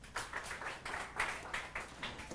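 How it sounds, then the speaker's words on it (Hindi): Quick, irregular bursts of hand clapping from a small group of students in a classroom, fairly close, sounding sparse rather than like full applause. "ताली बजाओ इसके लिए।"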